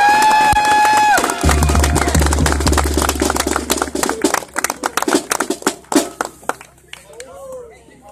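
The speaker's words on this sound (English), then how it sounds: "So give them a big round of applause" A pep rally crowd gives the area champions a big round of applause, cheering loudly at first. The clapping then thins into scattered, dying claps.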